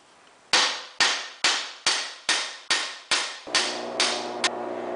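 Brass washers are hammered flat on a bench vise: nine sharp metallic strikes in steady rhythm, loud and close, the last few ringing with a lingering tone.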